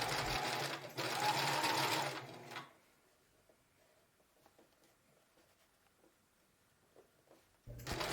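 A sewing machine stitches an elastic waistband onto a pair of boxers, running loud and steady for about two seconds, then stopping, with faint handling clicks during the pause and a brief restart at the end.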